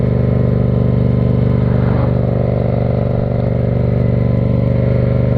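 A motorcycle with changed sprocket gearing, heard while riding: a loud, constant engine drone close up with steady wind rush, holding an even pitch throughout.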